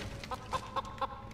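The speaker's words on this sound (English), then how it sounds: "These chickens are dangerous." Chickens in a Family Guy video game cargo hold give four short, evenly spaced clucks, close and fairly clear over a low background hum.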